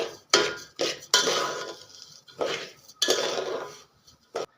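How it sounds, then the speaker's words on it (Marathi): Coarse wheat grits roasting in a pan over a slow flame are stirred in bursts, each a close, gritty scrape of a utensil against metal, about six strokes separated by short pauses, with no talking. "स्लो फ्लेमवरती मी ह्याला साधारणतः 3 ते 4 मिनटं छान परतून घेते, भाजून घेते"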